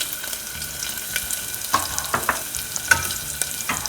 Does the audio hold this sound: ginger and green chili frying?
yes